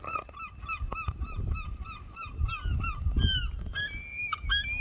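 Gulls call repeatedly over a harbour at Ardrossan, a dense chorus of loud nasal honking cries overlapping near and far above wind and water noise.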